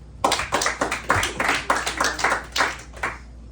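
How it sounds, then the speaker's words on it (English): Sparse, scattered clapping from a small comedy club audience, about eight distinct claps over a few seconds, moderately close and quiet with no voices over it. "Please clap."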